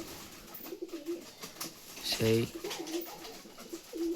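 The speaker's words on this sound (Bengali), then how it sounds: "কিছু পায়রা বাইরের দিকে গেছে" Pigeons cooing in a pigeon loft, soft repeated low coos throughout with a brief louder burst midway, while someone talks over them.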